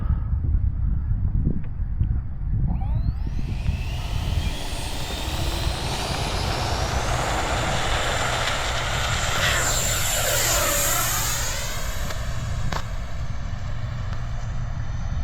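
A 64mm electric ducted-fan RC jet flying at dusk, its steady whooshing whine rising and falling in pitch as it passes overhead, loud and continuous throughout with a clear flyby sweep near the middle.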